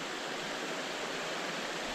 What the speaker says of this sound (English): being able to walk next to, you know, a river or a waterfall